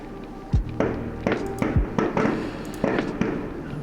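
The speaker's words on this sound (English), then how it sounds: "These fireworks are gonna keep me up all night." Fireworks going off outside, a run of irregular dull thumps and pops, roughly ten bursts in quick succession, muffled and somewhat distant as if heard through walls, each with a short rumbling tail.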